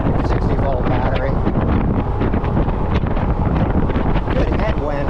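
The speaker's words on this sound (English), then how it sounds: "Good headwind right now." A strong headwind buffets the microphone while riding a 60-volt electric vehicle through a neighborhood street. The roar is loud, continuous and gusty, and it covers everything else.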